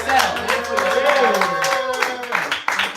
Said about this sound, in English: Clap for each other one more time